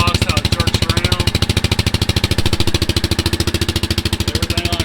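A Yamaha Viking UTV engine idles with its exhaust vibrating, making a loud, close, steady run of rapid rhythmic thumps that holds for the whole stretch.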